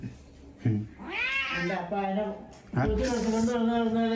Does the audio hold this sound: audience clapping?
no